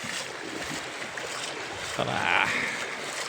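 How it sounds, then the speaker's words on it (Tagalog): Gentle sea waves lap beside a boat off a rural coast, a soft, faint wash of water with light wind, swelling slightly near the end. "Ang ganda, banayad na banayad lang yung alon, no?"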